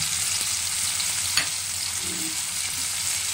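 Spices and softened tomato frying in a pan for a fish curry, a steady close sizzle with a single stirring scrape partway through, no voices.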